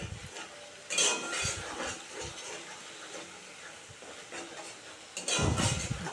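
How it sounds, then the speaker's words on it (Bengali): Spice paste with a little sugar being sautéed in a pan for cauliflower pakora curry, soft continuous frying hiss broken by intermittent spatula scrapes and clinks, close and moderately loud. "দেখো খুব সুন্দর করে কষাবো"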